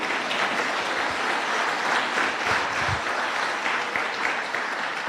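Sustained applause from a church congregation after a sermon line, a dense, steady wash of clapping filling the whole stretch at even loudness with no break.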